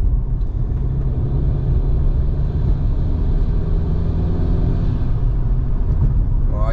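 An ECU- and TCU-tuned car accelerates in fourth gear from about 30 mph. A loud, steady low engine drone and road rumble fill the cabin throughout.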